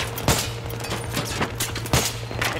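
Gunfire in the video game Battlefield 3: several loud bursts of shots over a constant rumbling background of battle noise, with no clear speech.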